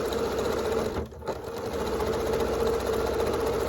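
Sewing machine stitching quilt pieces together for a scrap quilt, close and steady, with a continuous rapid mechanical whir and one brief pause in the middle.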